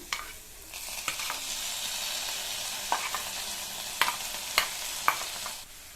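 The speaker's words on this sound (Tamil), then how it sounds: "முட்டைக்கோஸை சேர்த்துட்டு நல்லா இந்த மாதிரி கலந்து கொடுத்துருங்க" Steamed cabbage being stirred into lightly sautéed onions in a pan, giving a steady soft sizzle with scraping stir strokes and a few sharper spoon clicks against the pan, close and alone with no talk.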